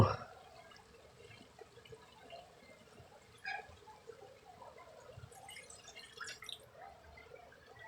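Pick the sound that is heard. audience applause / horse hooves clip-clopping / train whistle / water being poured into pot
water being poured into pot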